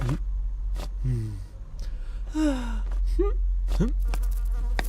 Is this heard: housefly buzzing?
yes